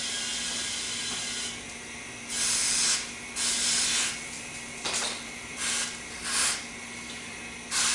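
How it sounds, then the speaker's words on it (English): CO2 gas hisses from a tank through a hose held against a picnic-tap keg for home brewing, a steady broadband hiss swelling into several louder bursts as the flow is pulsed. "I'm just holding it up there, putting CO2 in it."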